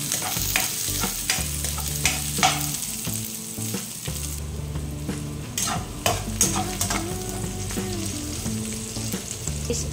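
Ginger and aromatics sizzle and fry in a pan for ginataang gabi, with a spoon scraping and stirring in steady, repeated strokes close up, no voices.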